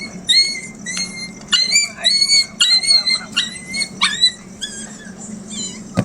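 A dog barks and yips repeatedly in a rural Gujarati household setting, sharp close barks in irregular bursts over a low steady background hum, with no talk.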